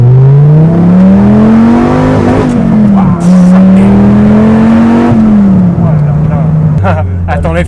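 A Dodge Viper SRT-10 engine revs loudly from close inside the car while driving, its deep droning note rising and falling over several seconds, with a brief exclamation near the end.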